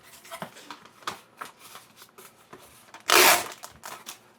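A paper insert from a CD case is scored and folded down the middle, giving soft scattered crinkles and taps, then a single loud, close rustling crunch of paper near the end.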